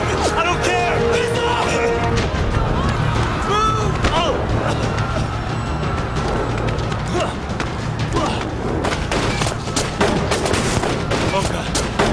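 Gunfire in the video game 1979 Revolution, rapid loud shots and thumps layered with shouting voices and game sounds throughout.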